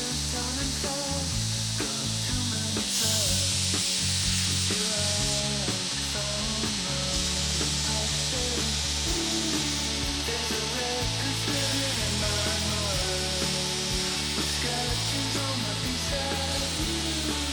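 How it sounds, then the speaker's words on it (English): A belt grinder sands saw marks off a wooden cup in a loud, steady, continuous whirring grind with a bright hiss that runs unbroken for the whole stretch, close up and with no talking. "I thought I'd take it to the belt grinder and sand off all the saw marks"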